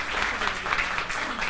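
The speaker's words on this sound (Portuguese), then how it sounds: "Uma salva de palmas para o seu Carlos" An audience at an event applauds, a steady, dense clapping from a crowd that sounds fairly close and continuous throughout.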